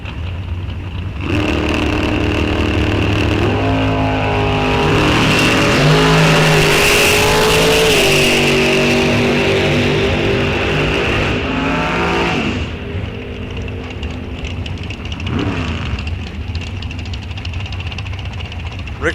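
Drag race cars launch and run down a strip at the Rock Falls Raceway NHRA Wisconsin State Championships, with loud rising engine roars and revving that sweep through the middle of the clip before easing off, and a track announcer speaking over them.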